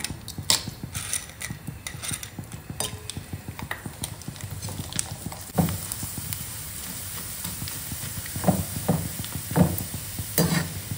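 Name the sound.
fryums deep-frying in hot oil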